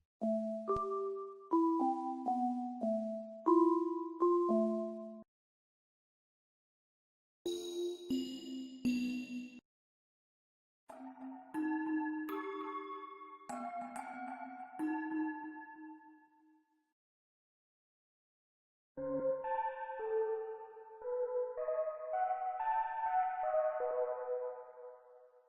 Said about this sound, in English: These bell pads as well.